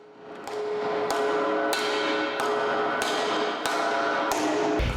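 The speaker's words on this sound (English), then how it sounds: "The candidate must use a sledgehammer to move the slide to the end of the sled." Sledgehammer blows strike a sled during a firefighter agility test, six loud metallic clangs in a steady rhythm, each ringing briefly over a constant roar of background noise.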